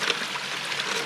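Weak, uneven trickle of water from a clogged bilge pump on a creek gold-mining setup, a steady broadband wash with faint gurgles, close and continuous for about a second.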